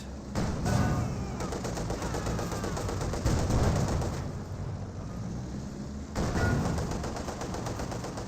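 A gun fires rapid bursts in the Company of Heroes 2 video game: dense, fast rattling volleys that briefly thin out in the middle before a fresh burst starts near the end, loud and continuous.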